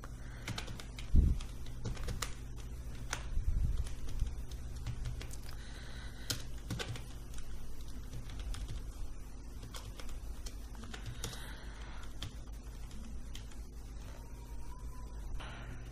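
Data gets keyed into a spreadsheet on a computer keyboard: soft, irregular key clicks and taps run steadily throughout, faint and close, over a low background hum.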